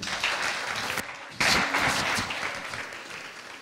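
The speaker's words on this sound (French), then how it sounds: "On applaudit." Church congregation applauding during a French-language Sunday service, sustained clapping that briefly dips then swells back louder and gradually thins out, without talk.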